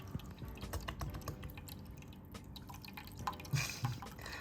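Water drips and trickles from a cat's drinking fountain, a soft, steady patter close by with a few faint lapping sounds from a cat drinking.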